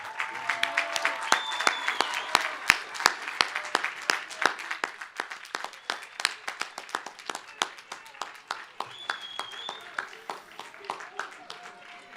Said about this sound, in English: say thank you with another spirited round of applause for their support